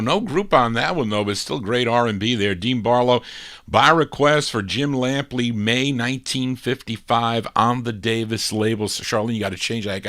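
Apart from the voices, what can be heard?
None of the usual background noises is heard.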